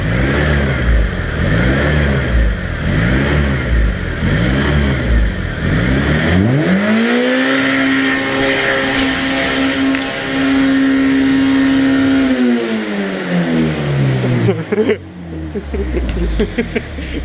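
A car engine on the ECK20 project revs hard after its throttle cable slips off, first pulsing in rhythmic surges, then holding a loud sustained high-rev wail at wide open throttle before dropping away, with voices around it.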